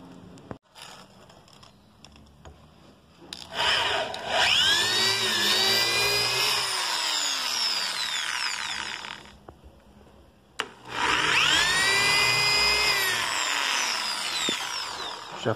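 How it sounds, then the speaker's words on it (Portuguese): A drill bores a small pilot hole up into a wooden ceiling, giving two sustained whining bursts with rising and falling pitch and a short pause between them, loud and close with no talking. "aí eu prego primeiro a broca e faço um pré-furo, tá? Uma broquinha."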